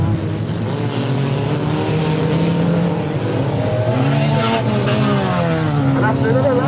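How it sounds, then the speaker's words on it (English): Race cars lap a circuit at a Harvest Havoc meeting, engines droning and rising in pitch as they pass close and loud, under continuous commentary from an announcer. "They're now racing, Alex."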